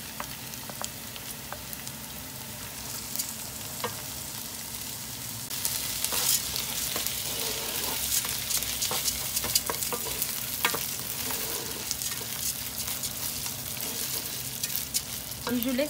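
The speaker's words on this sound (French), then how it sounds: "Et je laisse revenir le riz 4 à 5 minutes ونخليه يتقلى 4 إلى 5 دقائق مع التحريك" Rice frying in a pan and stirred continuously, for an oven-roasted chicken dish, gives a constant close sizzle that swells louder partway through, dotted with repeated spoon scrapes against the pan.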